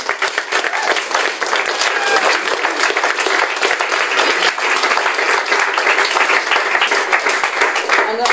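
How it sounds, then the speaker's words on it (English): A seated audience at a book event breaks into loud, continuous applause, many hands clapping in a dense steady rhythm from start to finish. "Claire deserves a huge clap"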